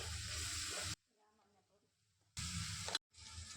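Chopped tomatoes and curry leaves sauté in a pan, giving loud bursts of close sizzling and stirring that cut off abruptly, with a quiet stretch of talk between them.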